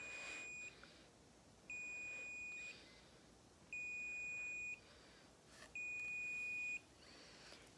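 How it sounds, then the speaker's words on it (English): An automatic hair curler gives four evenly spaced electronic beeps, each about a second long, clear against a quiet background. "Wait until it gets to 4 beeps."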